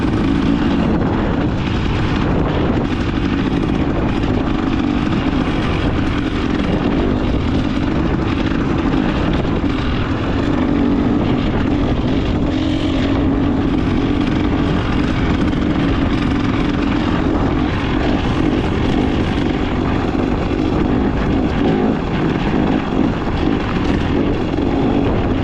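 A 2025 KTM XCW 300 Champion Edition two-stroke dirt bike engine runs steadily at a held RPM, a loud, close, continuous rough drone with no talking.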